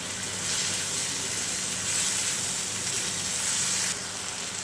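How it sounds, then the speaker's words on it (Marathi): Cabbage manchurian stir-fried in a pan with soy sauce and tomato sauce, giving a steady loud sizzle with a bright hiss that swells and eases a little, and no voices. "एक चमचा सोया सॉस घालूया एक चमचा टोमॅटो सॉस आणि हे छान मिक्स करून घेऊया"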